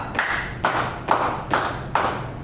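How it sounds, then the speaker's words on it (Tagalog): Hands clap in a classroom during a teaching demonstration, five loud, sharp claps in an even rhythm about half a second apart, close and distinct with short decays between them. "Bigyan ito ng 5 palakpak at 5 tadyak."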